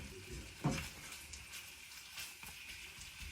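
Meat for Cambodian lok lak, coated in a ginger mix, sears in a hot pan with a soft steady sizzle and one brief clatter as it is stirred, quiet and close.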